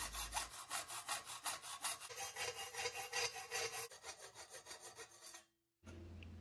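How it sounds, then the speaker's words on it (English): A hand saw cuts through a cast aluminium Kawasaki Millyard engine casing in steady, rhythmic back-and-forth strokes, close and loud, then stops briefly before resuming. "The cast aluminium cuts really nice, and I just guide the blade to cut a straight line"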